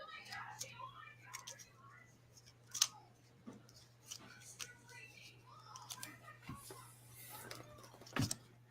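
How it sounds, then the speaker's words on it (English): Cards shuffled for a reading, a run of soft close riffling and flicking sounds in irregular bursts with quiet whispered talk in the background. "shuffle for Tash now"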